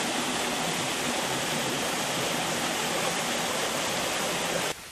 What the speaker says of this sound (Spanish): Los fuertes desniveles de esta zona provocan numerosas cascadas, casi una decena, que hace el arroyo de Huanga